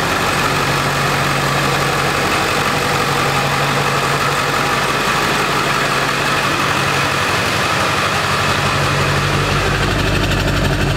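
After a cold start in snow, a Ford 7.3 truck engine idles loud and close with a steady, even diesel-like rumble and a faint whine throughout, with no talking.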